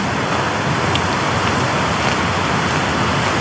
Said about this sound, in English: Stickle Ghyll, which is sounding a bit more ferocious than it was yesterday.